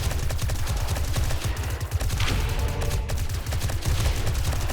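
Sustained rapid automatic gunfire from a 100-round magazine during a zombie horde defense in the video game 7 Days to Die, loud dense bursts of shots continuing nearly without pause.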